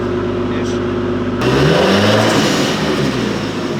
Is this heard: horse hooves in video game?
no